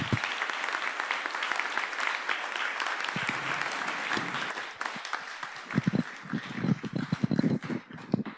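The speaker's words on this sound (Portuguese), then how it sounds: "Vamos aplaudir o Deus da salvação." A church congregation claps at the close of a worship service, loud sustained applause that builds into heavier, uneven claps and rhythmic bursts toward the end.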